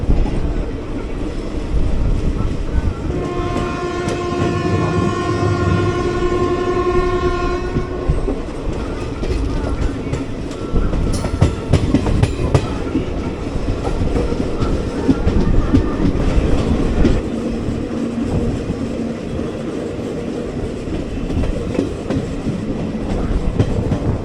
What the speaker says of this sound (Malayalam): അപ്പോൾ നമ്മളിപ്പോൾ ജസ്റ്റ് കുപ്പം സ്റ്റേഷനിലോട്ട് കയറുന്നു.